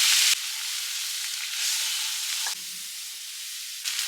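Slit green chillies and tomatoes sizzle in a pan with pav bhaji masala, a steady loud frying hiss that shifts and drops in intensity partway through, with no voices.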